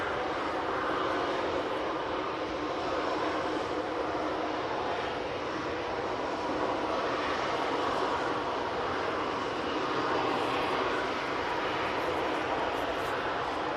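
Propeller airliners on final approach at a busy airport, a steady broad engine drone with prop hum holding loud and close across the whole stretch, no voices over it.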